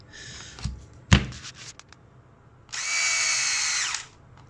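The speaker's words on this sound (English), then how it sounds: "let's pop this back in the drill and see" A cordless drill whirs steadily at high speed for over a second, preceded by a sharp click and some handling clatter as the battery goes back in, then stops abruptly.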